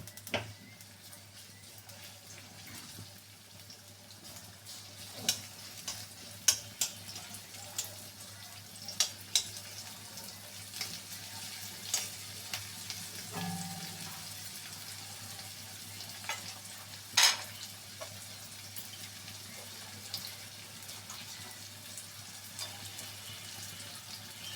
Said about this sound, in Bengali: প্রথমে পেঁয়াজটাকে দিয়ে দিলাম, অল্পই দিচ্ছি, পেঁয়াজটা একটু ব্রাউন কালার করে নেব।